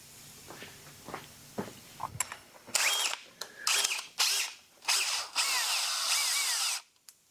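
A power drill bores holes through the floor of a car while a 5-speed shifter is being mounted, sounding as several loud, sustained bursts of whining separated by short pauses, with a few clicks and knocks in between.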